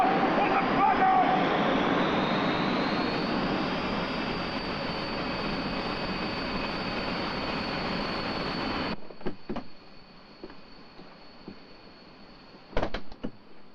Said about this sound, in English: As you can see, jet blast is a particularly nasty problem